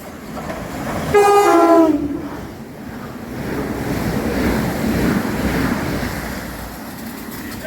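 Thameslink train at Balcombe station sounding a short two-tone horn blast, then a loud rushing roar as it passes close by the platform, fading slightly toward the end.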